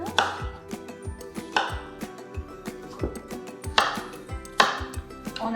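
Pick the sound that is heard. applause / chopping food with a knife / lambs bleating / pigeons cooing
chopping food with a knife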